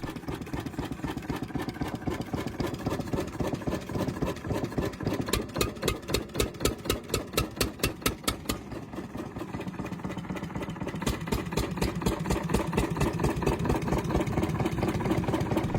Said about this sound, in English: 16-horsepower single-cylinder diesel engine was produced mainly from the 1950s to the 1960s for agricultural irrigation and stationary power use.